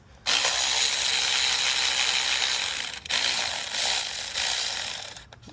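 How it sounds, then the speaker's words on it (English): An electric ratchet whirs continuously, close and loud, loosening spark plugs on a Dodge Charger 5.7L, with one short pause before it resumes and then cuts off. "I'm gonna get an electric ratchet for this one"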